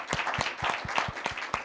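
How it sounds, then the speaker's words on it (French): Small in-person audience at a corporate talk on Crédit Agricole's human project clapping to thank a speaker: distinct, slightly irregular hand claps from a handful of people, close and clear, with no talking. "je propose que nous puissions t'applaudir pour te remercier"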